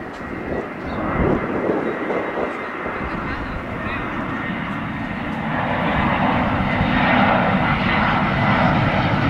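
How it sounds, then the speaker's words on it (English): An EasyJet airliner flies in to land over the coast at Cala Gamba, Mallorca, its steady engine roar swelling louder as it approaches, with faint background sounds beneath. "As soon as one plane comes in, then there's another one right behind it."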